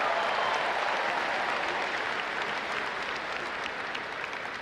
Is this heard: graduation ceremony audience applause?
yes